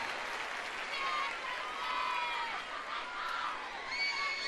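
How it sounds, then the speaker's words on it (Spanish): Concert crowd at a 1994 Viña del Mar show applauding and cheering, a loud, sustained wash of clapping with shouts and whoops from many voices. "Un gran aplauso de su gente y mío también."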